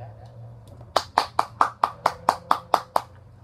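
A single person claps hands about nine times in a steady, even rhythm, each clap crisp and close, over a faint low hum with no other sound.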